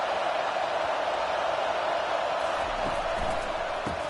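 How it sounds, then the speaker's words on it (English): Steady broadband roar of a large stadium crowd, constant and enveloping, with a few faint thumps near the end. "This crowd bringing the energy and noise early"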